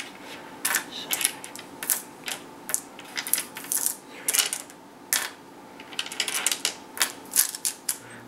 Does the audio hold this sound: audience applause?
no